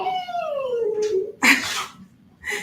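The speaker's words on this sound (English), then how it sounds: "My little dog, Mary Bear, is being real chatty" A small dog whimpers and howls in a falling, drawn-out whine, followed by two shorter yipping cries, close by with no talk.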